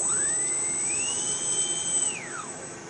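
Electric motor of a Hobbyzone Champ RC model airplane during a throttle test, whining up in pitch, holding steady, then spinning down, close and loud with no talking.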